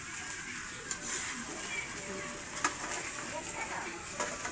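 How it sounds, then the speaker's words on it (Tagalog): Onion, garlic and corn being sautéed in a pan for a Filipino corn soup, giving a steady close sizzle throughout with a few scrapes and clinks of a stirring utensil. "ginisa muna niya yung sibuyas, bawang. Tapos, nilagay na yung mais."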